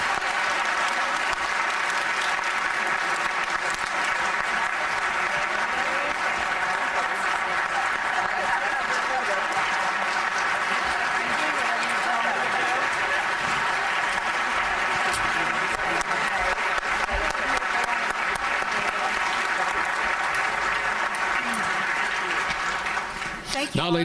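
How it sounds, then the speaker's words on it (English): Sustained, steady applause from a large audience honoring Lifetime Achievement Award recipients at the Hearts of Texas Awards Luncheon, filling the room evenly for over twenty seconds. "please give a well-deserved round of applause to all of the honorees of the Hearts of Texas Lifetime"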